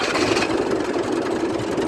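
A tractor engine runs at a steady idle just after starting in a village, a loud continuous low rumble with a knocking diesel texture and no voices over it.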